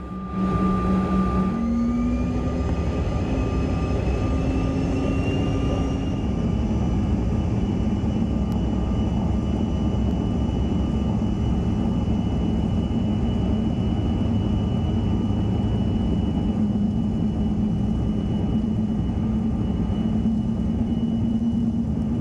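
Engines of a small United/SkyWest jet roar during climb-out after leaving Eau Claire, Wisconsin. A loud, steady cabin drone carries a thin whine that rises in pitch early on, then stays constant.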